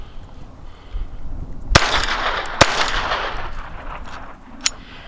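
Gunshots from a Lorcin .22 semiautomatic pistol firing Remington Golden Bullet ammo: three sharp, loud reports spaced irregularly over a few seconds, the first two close together, with faint background noise between.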